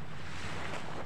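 Ocean waves on the seashore of Sitio Recodo, a steady loud wash of surf mixed with heavy wind rumble against the microphone, with no voices.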